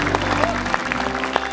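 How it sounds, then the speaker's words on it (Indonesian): Studio audience applause for a guest on an Indonesian talk show, a steady dense patter of clapping with a low hum underneath, filling the whole short stretch at moderate loudness. "Tepuk tangan dong buat Aden Bajai sini."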